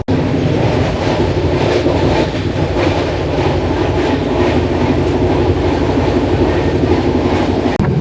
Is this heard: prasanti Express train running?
yes